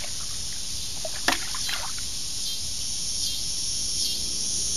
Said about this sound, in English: excuse all these loud as crap bugs.